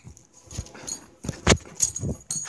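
A 13-week-old female pug puppy makes short, soft snuffling whimpers close by, scattered in a few brief bursts with quiet gaps between them.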